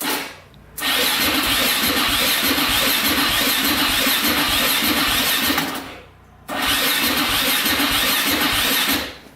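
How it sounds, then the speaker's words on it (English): A quad ATV engine cranks over on its electric starter and catches, running at a steady loud idle, then cuts out briefly near the six-second mark and starts again to keep running up close. "See if the electric start works."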